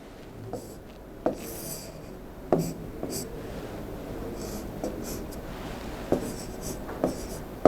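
An H pencil writes dimension numbers onto an engineering graphics drawing, giving soft, steady graphite scratching on paper broken by a few sharper taps as strokes begin, close and quiet with no talking.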